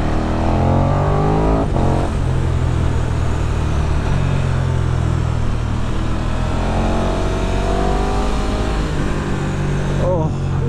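A 2020 KTM 1290 Super Duke R motorcycle accelerating hard on the road, its engine note climbing loudly through the revs with a brief drop at a gear change, recorded close and continuous throughout.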